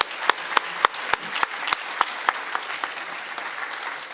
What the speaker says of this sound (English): Can we give a round of applause to Rick?